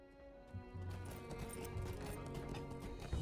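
Horse hooves clip-clopping in the video game LOTRO (The Lord of the Rings Online): a quiet, steady run of rhythmic hoofbeats over soft background music.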